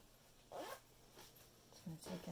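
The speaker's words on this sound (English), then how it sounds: "Do the zip back up again." The zip on a fabric pouch bag being closed, heard as short scratchy zipping strokes, close and fairly quiet, over a light background of handling noise.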